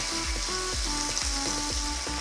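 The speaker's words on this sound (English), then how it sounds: "Fry the paneer pieces till you get a lovely golden brown color." Paneer pieces fry in oil in a pan, giving a steady close sizzle with recurring crackles and light stirring scrapes throughout.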